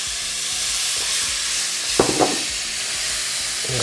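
Onions, shallots and carrots sizzling in a hot pan, a steady loud frying hiss throughout with a couple of brief stirring clatters midway.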